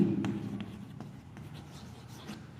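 Chalk or marker strokes on a board during a grammar lesson, a series of short scratchy marks at an irregular pace, fairly close, with no talking.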